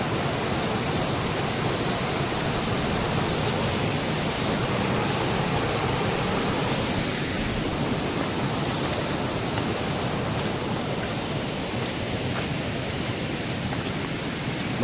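A waterfall beside green farmland pours without pause, a loud, even, rushing roar that fills the whole scene with no voices over it.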